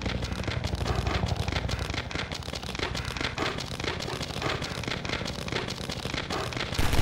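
Rapid, dense bursts of automatic gunfire from the first build of the video game Half-Life 2, loud and continuous, crackling and rattling throughout with no talk over it.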